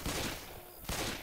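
Pistol gunfire in the zombie shooter Left 4 Dead 2: two sharp close shots about a second apart, each with a brief ringing tail, no talking.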